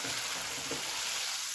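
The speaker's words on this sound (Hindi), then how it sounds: "हम इसको भूनेंगे।" Beef head curry with ground black pepper fries in a pot, giving a dense, steady sizzle that stays close and loud and runs without a break, with no talking.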